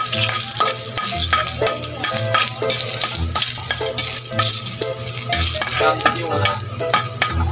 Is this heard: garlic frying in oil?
yes